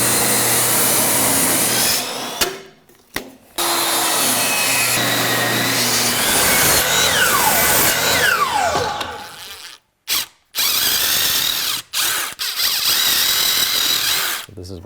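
A power saw rips lengths of wood down to size for 3 by 3 inch filler blocks behind a microwave mount, loud and continuous with brief pauses between cuts, with talk over parts of it.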